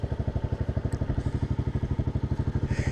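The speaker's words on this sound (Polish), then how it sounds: "Trochę mu zawór klepie. Prawdopodobnie wydechowy." A running Romet K 125 motorcycle engine idles with a rapid, regular ticking clatter, like a loose exhaust valve tapping in steady rhythm, close and fairly loud.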